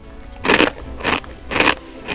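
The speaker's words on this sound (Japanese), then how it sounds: "いい音はおせんべいの醍醐味やよ。" Three crisp, crunchy bites into a Japanese rice cracker (senbei), evenly spaced and close up, each a short dry crackling snap with quiet pauses between.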